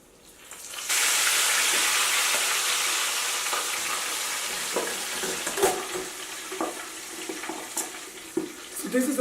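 Large pork picnic butt slid into a pan of hot oil, erupting into loud crackling sizzle that gradually settles into a steadier fry with scattered pops and spatters.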